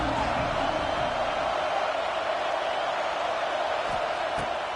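A roaring Auburn stadium crowd in a college football video game, a dense, steady wash of cheering and noise that continues throughout without breaks, loud and broad.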